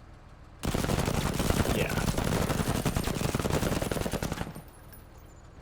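Sustained burst of automatic gunfire aimed at a group of conscripts in the video game Menace, loud and dense for about four seconds before cutting off, with a brief spoken word.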